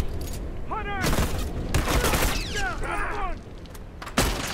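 Gunfire from the online shooter game Assault BR comes in several short bursts and cracks, mixed with game effect swoops and mechanical clatter, while players talk over it.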